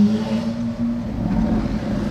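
Bugatti Chiron engine revving hard in first gear on a Monaco street, a loud, steady low rumble with a sustained droning note throughout, no talk.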